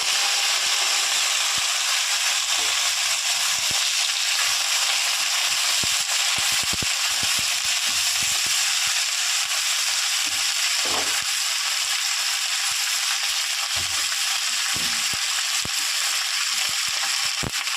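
Cut pumpkin pieces, peel partly left on, and other vegetables fry in a pan for a vegetarian dish, making a loud, continuous hissing sizzle with scattered clicks and crackles and no voices.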